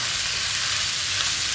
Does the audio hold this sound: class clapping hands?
no